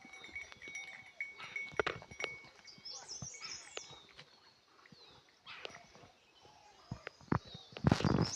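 Scattered bleats from a flock of sheep, some close and some farther off, with occasional voices and rustling outdoor noise.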